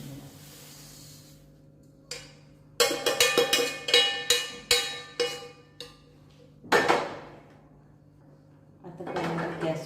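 Roasted sesame seeds poured from a pan onto a plate in a home kitchen: a burst of rapid rattling scrapes, a longer pour-like rush, then a final scraping, close and fairly loud.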